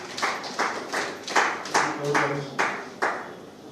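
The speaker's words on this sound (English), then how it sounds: "So a round of applause for him, please." Slow, sparse clapping at a gathering on Nigerian political matters, about eight distinct rhythmic claps from a small group, fairly near and moderately loud.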